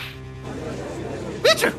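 A sneeze sound effect in a courtroom video game, a short sharp burst heard near the end after a stretch of quieter background music, with a spoken exclamation just before it.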